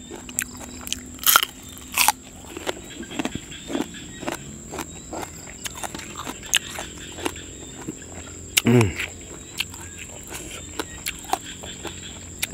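Crunchy food is chewed up close outdoors beside a rice field in the evening, with irregular crisp bites and crunches spread across the stretch over a steady high background whine.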